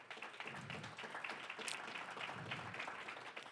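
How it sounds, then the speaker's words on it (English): Faint, distant audience applause at a hip-hop tribute event, a soft steady patter of clapping for the event sponsors that holds for a few seconds. "Let's give them a round of applause"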